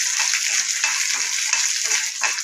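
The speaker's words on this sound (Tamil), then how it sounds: "இப்போ காஞ்ச மிளகாவை போடுறேன்." Dried red chillies frying in a pan of hot oil, a steady close sizzle with soft crackles and faint stirring scrapes throughout, no voices.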